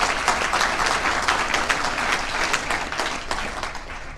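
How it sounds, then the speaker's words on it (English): An audience at a squash hall of fame induction ceremony applauds the board and Squash Ontario. The clapping is steady and fairly loud, a dense patter of many hands lasting about four seconds. "A round of applause for the board and Squash Ontario."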